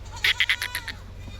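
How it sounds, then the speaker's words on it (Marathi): A goat bleats in a short wavering burst of several quick pulses, fairly close, over a low steady background hum at a livestock market in Chandwad, Nashik district. "कालच्या बुक्क्या शेळ्या"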